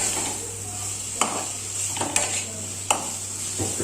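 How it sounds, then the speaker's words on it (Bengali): Taro stolon curry with mustard paste being stirred in a pan, with a few distinct scraping knocks of a spoon against the pan over a steady sizzle and hiss. "ভালো করে নাড়াচাড়া করে ঢেকে রেখে দেবো কিছুক্ষণ"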